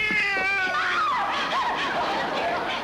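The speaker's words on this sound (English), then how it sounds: "it was only a cat" A cat meows insistently in a 1955 television comedy scene, the sound starting with a clear harmonic meow that slides and wavers into a drawn-out caterwaul, loud and close, with no talk over it.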